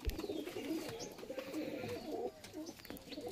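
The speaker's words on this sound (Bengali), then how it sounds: "এটা মালবাহী পায়রা" Carrier pigeons in a loft coo with repeated low, throaty calls that overlap under a soft background hum of other birds, fairly close and moderate in level.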